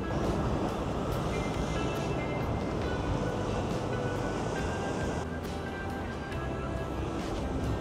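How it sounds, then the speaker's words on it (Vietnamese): Strong ocean waves pound the shore at a beach in Phan Thiet, making a steady, dense roar of surf that continues without a break for several seconds. "sóng hôm nay mạnh quá nha,"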